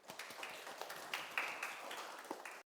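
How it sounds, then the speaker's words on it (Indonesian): A classroom group gives a short round of applause, scattered hand claps at moderate level lasting under three seconds before stopping abruptly, with faint voices mixed in. "Tepuk tangan untuk kita semua."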